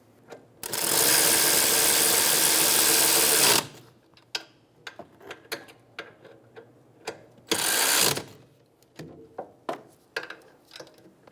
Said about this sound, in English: Snug down the bolts.